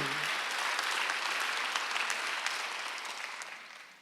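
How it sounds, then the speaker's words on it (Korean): Applause from a church congregation at a Korean Sunday worship service, a thick crackle of many hands that holds steady and then gradually fades out over a few seconds. "박수 한번 주세요"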